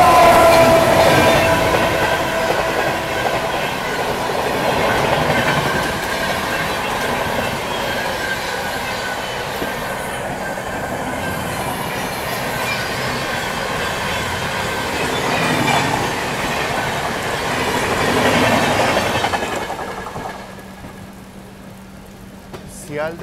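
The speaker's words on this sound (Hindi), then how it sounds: "तो ये आपने देखा किस तरह से बिल्कुल पैरेलल में निकली सियालदह राजधानी एक्सप्रेस" An Indian Railways Sealdah Rajdhani Express runs past on a parallel track, heard from inside a moving train: a loud, steady rumble with wheel clatter and squeal that holds for about twenty seconds, then drops away sharply as the train clears.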